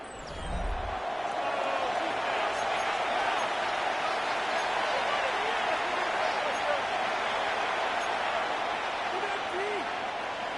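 A stadium crowd roars continuously in an EA Sports NFL football game, a dense, steady wash of cheering that holds for the whole stretch. There is a brief low thump at the very start.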